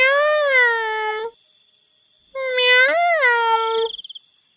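A cat meows twice, two long drawn-out tonal calls close to the listener, the second rising and wavering, separated by a second of silence and trailing off in a few short fading pulses.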